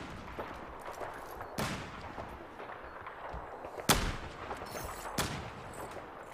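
Gunfire in the video game Battlefield 4: a few sharp, loud shots ring out at irregular intervals over a continuous rumbling battlefield background, with no voices.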